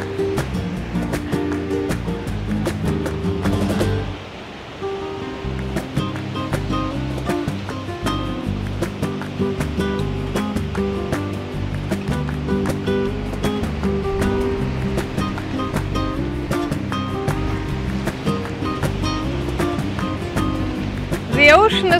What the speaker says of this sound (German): Wenn das Geräusch des Meeres deine Gedanken übertrifft, dann bist du an dem besten Platz.